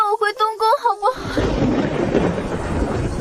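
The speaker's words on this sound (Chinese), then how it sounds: "我最怕打雷了" Thunder in a spring rainstorm rolls in as a loud, continuous rumble with hissing rain, following a woman's brief frightened speech at the start.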